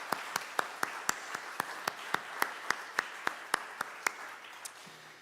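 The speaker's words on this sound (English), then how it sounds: "So one round of applause again." Applause at a church special presentation comes as a brisk, evenly spaced run of sharp claps, fairly close, for about four seconds before it fades out.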